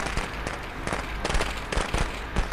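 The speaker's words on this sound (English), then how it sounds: "I'm not gonna fall for that firecracker." Firecrackers pop in the video game Friday the 13th, a rapid, crackling string of sharp bursts in irregular clusters, loud and close with no talk.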